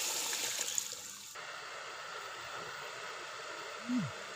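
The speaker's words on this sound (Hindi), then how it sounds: "अब इसमें शामिल करेंगे यखनी।" Chicken stock (yakhni) poured into a cooking pot for chicken pulao in a village kitchen, a steady, continuous watery rush with no voices.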